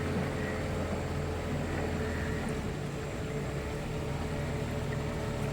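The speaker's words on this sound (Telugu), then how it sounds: "మరి చాలా స్లోగా వెళ్తూ ఉంది మన బోట్ కూడా." A steady low engine drone comes from a boat moving slowly through the mangroves near the Pondicherry fishing harbour. The rumble stays constant and fairly close, with no talk over it.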